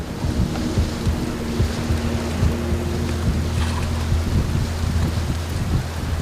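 Stormy weather at sea during a passing squall, with a dense, steady roar of wind and rain-like wash and a low rumble running throughout, loud and continuous with no voices.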